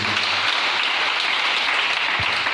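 Congregation at a church praise service applauds and cheers the Lord, a steady dense wash of clapping filling the whole span, close and loud, with no speech over it.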